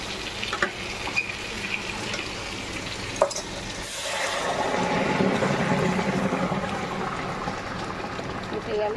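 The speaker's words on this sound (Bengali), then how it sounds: "এবার ডালটা ফোড়ন দিয়ে দেবো" Moong dal cooked with hilsa fish head is tempered with spices in hot oil. Quiet kitchen sounds and some voice give way midway to a sudden, fuller, sustained close sizzle.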